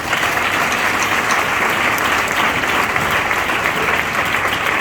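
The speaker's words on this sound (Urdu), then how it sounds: "زوردار تالیاں" Loud, dense applause fills a church congregation, a continuous even roar of many hands clapping with no break or voices over it.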